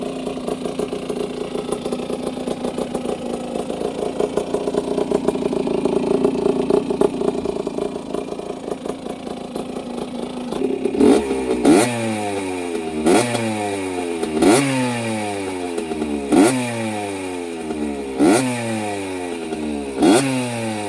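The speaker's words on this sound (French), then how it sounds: "Je vais vous la redémarrer un petit coup pour que vous puissiez entendre le son de la moto." A restored 1983 Honda 50 CR motorcycle engine fires up after a stretch of rough mechanical clatter, then settles into a loud, close idle with steady rhythmic blips of throttle pulsing every second or so, no talking.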